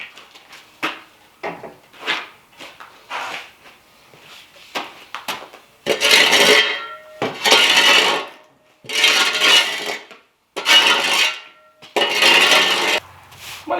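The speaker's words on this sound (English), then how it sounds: "How many videos are we going to have of me sweeping the floor?" Someone sweeps a wood shop floor with broom strokes, first light and scattered, then a run of louder, longer rhythmic sweeps that are close and unaccompanied by speech.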